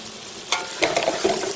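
Shrimp with seasoning rub frying in a cast iron skillet, giving a steady close sizzle with a few sharper crackles and stirring scrapes near the end and no voices.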